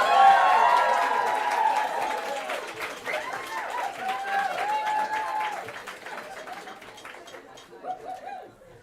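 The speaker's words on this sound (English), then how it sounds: "That round of applause was just a bit less than it took me to walk up here" A round of applause from the audience at a journalism and PR awards ceremony, loud at first and gradually thinning out, with some voices and cheers mixed in.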